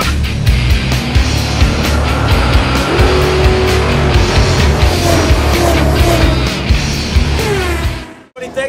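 Karts race around an indoor grand prix track in Melrose Park, with loud continuous engine whine and repeated tire squeals as they pass close by, the roar cutting off abruptly at the end.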